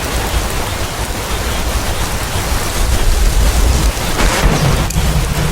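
Heavy rain hisses steadily in Skyrim, with a deep roll of thunder swelling midway, loud and continuous with no talk.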